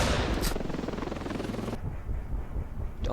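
In a video game battle, a helicopter fires a rapid automatic burst, dense loud rattling under a thudding rotor drone; the shooting stops abruptly partway through, leaving the rotor chopping alone.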